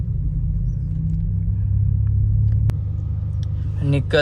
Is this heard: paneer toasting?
no